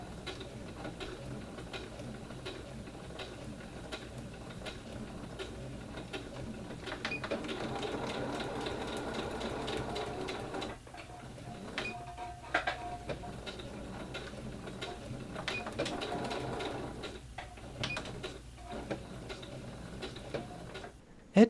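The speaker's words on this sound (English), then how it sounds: "Using gray thread, stitch the 4 horizontal tubing channels, reinforcing your stitching several times." A sewing machine stitching tubing channels with gray thread, a faint steady mechanical ticking and whirring with brief pauses between runs of stitching.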